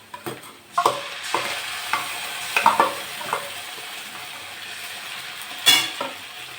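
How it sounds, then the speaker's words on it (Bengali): Mustard and green chilli paste fries with browned onion in a pan for a pointed gourd mustard dish. A spoon scrapes and stirs in irregular strokes over a soft, continuous sizzle. "আমি এবার সর্ষে আর কাঁচা লঙ্কা বাটা দিয়ে দেবো।"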